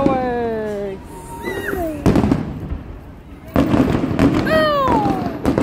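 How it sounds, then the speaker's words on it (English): Fourth of July fireworks whistle upward and burst in a few sharp, loud bangs, with rising whistles between the explosions. "Fireworks."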